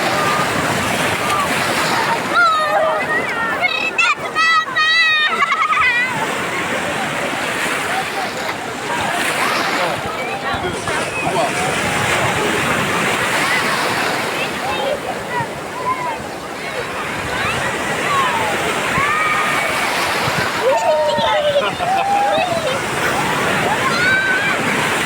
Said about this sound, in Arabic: يجيكم البحر.